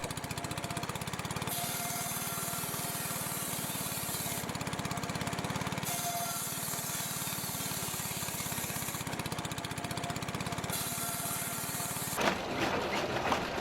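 A Bernard engine-driven circular saw for cutting firewood runs steadily, a continuous mechanical drone with a dense buzzing whine that holds constant before a sharper clattering burst near the end.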